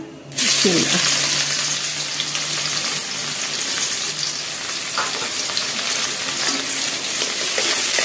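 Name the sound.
chopped onions frying in oil with bay leaves and cumin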